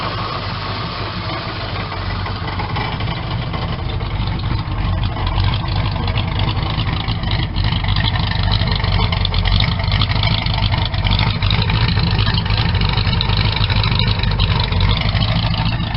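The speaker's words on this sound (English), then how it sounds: "It sounds pretty good, and that's 2 1/4 inch exhaust all the way back." A 1976 Ford Ranchero engine idles steadily through its 2 1/4 inch exhaust, a deep, even rumble that holds constant and close throughout, with no voices.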